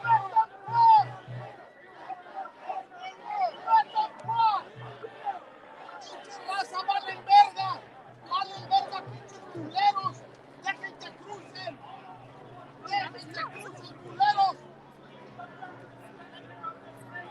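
A crowd murmurs and chatters at a Palestinian support rally in Westwood, Los Angeles, with overlapping voices and scattered shouts close by and a low rumble underneath.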